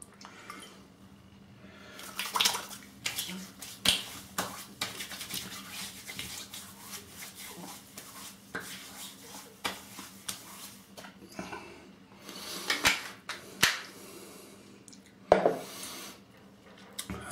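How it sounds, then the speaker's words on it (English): Nivea Two Phase aftershave being shaken and splashed onto the face after a Rockwell 6S shave, with liquid rattling, slapping hands and wet rubbing in bursts, close and moderately loud, without talk. "Shake and splash."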